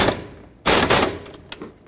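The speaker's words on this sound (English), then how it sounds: "I'm going to tighten it up with my air gun" A pneumatic air gun hammers on an engine mount bolt of a 2003-2008 Toyota Corolla, giving a short loud rattling burst followed by a couple of quick taps, close up.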